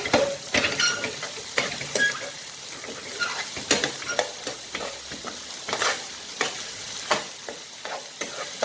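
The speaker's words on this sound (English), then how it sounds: "Let it fry till it's brown" Mixed dhal frying in ghee until brown, with a loud, crackling sizzle close by and constant spatula stirring and scraping against the pan.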